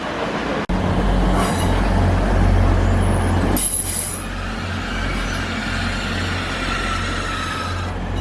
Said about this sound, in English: Screech of brakes.